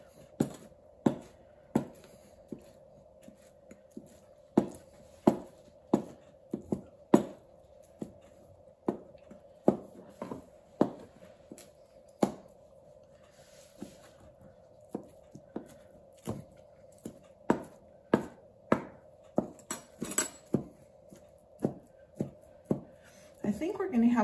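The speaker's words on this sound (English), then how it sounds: "I'll just start chopping." Knife blade striking a cutting board over and over in an irregular rhythm as leftover ham meat is chopped, close and crisp, with a steady hum underneath.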